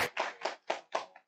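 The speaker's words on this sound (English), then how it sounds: "round of applause for" A few people clap briefly in a university lecture hall, five or six soft, evenly spaced claps that trail off within about a second.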